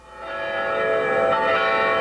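Church bells ring in a dense, sustained peal that swells slightly as it goes on, heard on their own with no voices.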